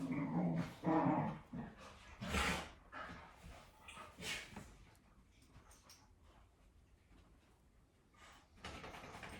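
Several pet dogs playing indoors, with bursts of close growling, yips and scuffling early on, fading to quieter rustling and a few faint sounds, then picking up again near the end.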